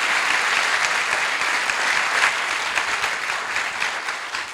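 Dense, sustained applause from a live concert audience for a Greek singer, loud and continuous clapping filling the room with no talking over it.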